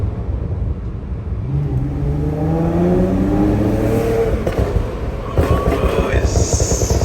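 Tuned Infiniti Q50S engine revs up loudly from inside the car, the pitch climbing in a long rising sweep before easing off, with an excited voice talking over it.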